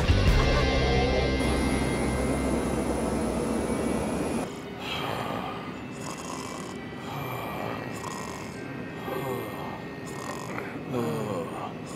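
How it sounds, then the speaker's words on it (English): An airplane engine in an animated soccer cartoon gives a loud, steady roar that drops to a lower, pulsing drone partway through, with faint vocal sounds around it. "Stop this plane!"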